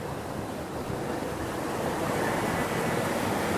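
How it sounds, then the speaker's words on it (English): Water pouring down a waterfall along the San Angelo riverwalk in Texas, a steady broadband rush that stays loud and continuous throughout, with no voices over it. "So we'll go down here and look at that waterfall."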